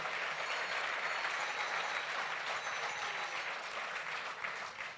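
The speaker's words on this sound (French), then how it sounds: "on peut l'applaudir" Sustained applause from the audience at a sports awards ceremony, dense and steady across the whole stretch, tapering slightly near the end, with no talking over it.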